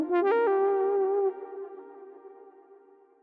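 A Predator-3 synthesizer plays a single sustained brassy, trombone-like tone with a short pitch bend, then releases into a long reverb tail that fades away alone.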